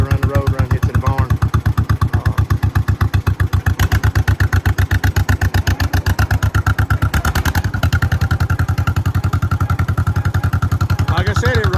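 A 1958 John Deere 420 tractor engine chugs loudly and close with a steady, rapid thumping beat as the tractor drives off, someone talking over the rhythmic pulsing.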